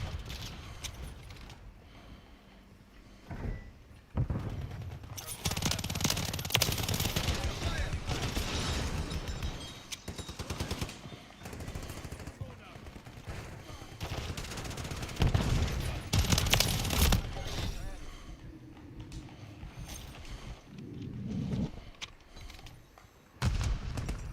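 Automatic weapons fire and explosions in Call of Duty Modern Warfare III, dense and continuous over most of the stretch, with game voices speaking over the shooting.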